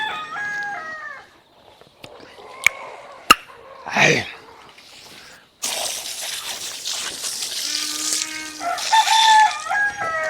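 On a farm with ducks and free-range chickens, hens cluck and a rooster crows loudly and close by, mixed with scattered knocks and drips and a continuous outdoor hiss.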